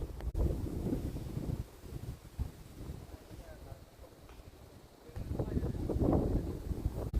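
Strong gusts at a hilltop viewpoint in Malappuram buffet the microphone in low, rumbling bursts, rising and falling, while people talk over the blustery noise.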